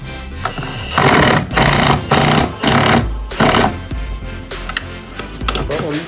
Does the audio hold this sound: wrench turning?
yes